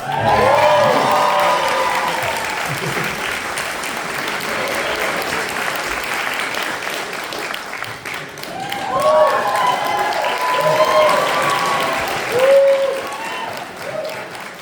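Sustained audience applause fills the room at a horror film convention panel, swelling and easing over time, with cheers and voices mixed into the clapping.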